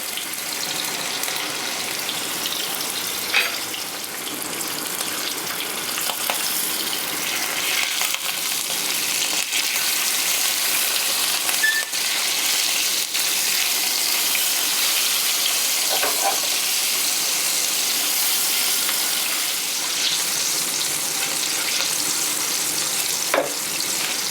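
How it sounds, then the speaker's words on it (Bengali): Hilsa fish pieces lightly frying in hot oil, a steady close sizzle with bubbling and faint spatters running unbroken throughout. "তেল গরম হয়ে গেছে এবার মাছটাকে আমি জাস্ট একটু সাঁতলে নেব বেশি ভাজবো না অল্প একটু সাঁতলে নেবো"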